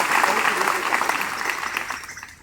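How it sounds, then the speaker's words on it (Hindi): Schoolchildren clap loudly for a classmate named Arvind during an environment lesson, a brisk, close burst of applause that fades slightly over a couple of seconds. "जोरदार तालियां अरविंद के लिए।"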